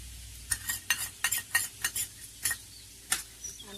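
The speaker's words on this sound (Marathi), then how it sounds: "आणि मस्तपैकी असं ढवळून घ्यायचं." A utensil stirs sliced bitter gourd frying in a pan with turmeric, salt and a little sugar, giving about a dozen quick scraping strokes over a soft sizzle, close and clear.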